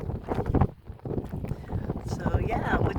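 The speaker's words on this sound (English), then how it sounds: "we're just out here listening to the wind" Wind sweeping across a sailboat at sea in warm tropical weather, buffeting the microphone with a steady gusty rush, while voices murmur underneath throughout.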